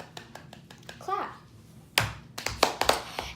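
Someone speaks briefly, then a burst of sharp hand claps follows, several quick claps close to the listener.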